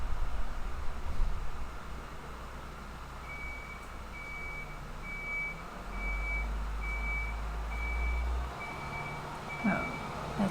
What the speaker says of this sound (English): Oh, that's a car backing up.